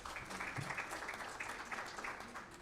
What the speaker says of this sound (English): Can we give a hand clap to her?